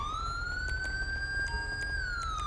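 Ambulance siren in the GTA 5 video game, a steady electronic wail rising and holding before sliding down, loud and close over low rumbling game noise.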